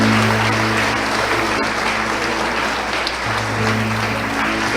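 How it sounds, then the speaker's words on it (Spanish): Congregation applause in a church, a continuous wash of clapping from many people with a low hum steady beneath it. "Pueden dar un aplauso a ellos."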